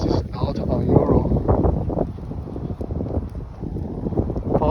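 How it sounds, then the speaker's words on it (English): Strong wind buffets the microphone outdoors in Foster City, a steady loud rumbling roar that persists throughout with gusty swells. "I think you can tell that it's pretty windy today in Foster City"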